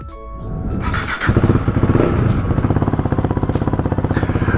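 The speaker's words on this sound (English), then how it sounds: "We're just gonna take a little spin around, see how the bike sounds" A KTM 390 Duke motorcycle fitted with an Akrapovic slip-on exhaust pulls away close by, its single-cylinder engine rising from idle into a loud, rapid, pulsing rumble that holds steady as it rides.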